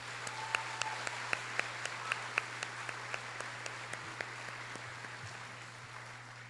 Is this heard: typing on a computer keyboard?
no